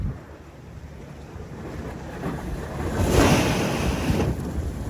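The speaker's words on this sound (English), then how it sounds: "Water literally below my feet, like I could hear it." Ocean water washes among rocks below a beach on Aruba, a steady rushing surge that swells louder midway through, with wind buffeting the microphone.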